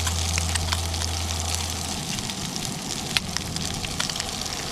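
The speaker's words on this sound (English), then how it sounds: "Look at that buttery trout. Sizzle, sizzle." Trout frying in butter in a pan over a mountain campfire, a steady close crackling sizzle with occasional pops and hiss, continuous and without talk.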